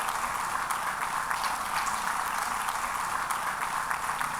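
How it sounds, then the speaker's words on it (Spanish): A church congregation applauds during a worship service, a dense, even wash of clapping that holds steady throughout with no voices over it. "denle un aplauso al Señor."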